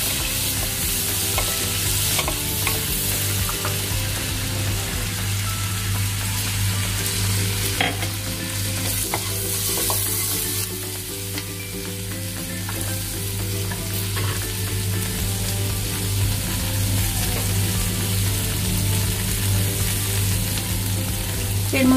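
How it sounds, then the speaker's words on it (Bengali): Chopped ginger and green chili sizzling in hot butter in a pan for paneer butter masala, a steady close frying hiss with occasional stirring scrapes, no voices over it. "এই বাটারের মধ্যে এবার কুচি করে কেটে রাখা আদা আর কাঁচা লঙ্কা এটা"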